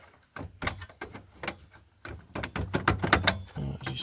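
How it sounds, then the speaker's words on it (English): Door of a 2002 Chevrolet Silverado extended cab being pushed, giving a series of close, sharp thunks and rattling knocks in irregular bursts, faint between the hits. "let's give the door a little push."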